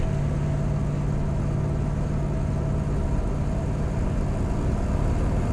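A 1963 Chevrolet Corvette split-window coupe cruising on the road, its engine a steady, loud, continuous low rumble with even drone and no pauses, heard alone without talk.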